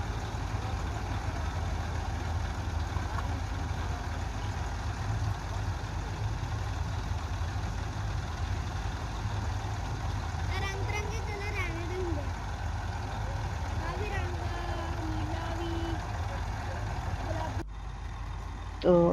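A tractor pulling an empty trolley back to a wheat field in rural Pakistan, with a steady low engine rumble throughout and someone talking over it.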